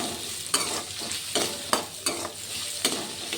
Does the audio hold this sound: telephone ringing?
no